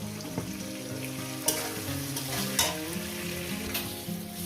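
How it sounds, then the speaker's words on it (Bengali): Onion and potato fry with turmeric powder in a pan of hot oil, sizzling steadily up close while a spatula stirs and scrapes now and then, with no talking. "হলুদের গুঁড়োটা দিয়ে একেবারে আমি ভেজে নেব"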